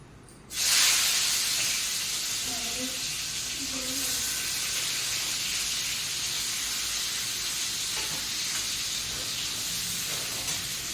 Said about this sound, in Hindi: एक बैच फ्राई करके बाहर कर रही हूँ, अभी सेकंड बैच ऐड करूँगी और उसको भी अच्छी तरह से फ्राई कर लेंगे।